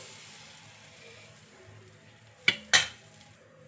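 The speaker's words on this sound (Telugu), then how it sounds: "ఇలా ఒక 2 గిరిటెల బ్యాటరీని అయితే వేసుకోవాలి. ఇలా వేసుకొని ఇలా స్ప్రెడ్ చేసుకోవాలి." Batter is spread on a hot pan: a low, quiet sizzle, then two sharp scraping clatters of the utensil against the pan close together, and a faint knock just after.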